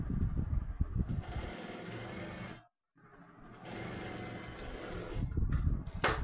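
Domestic sewing machine stitching piping onto a shirt, a rapid whirring run that stops briefly mid-way then resumes, with clicks and handling noise at the close.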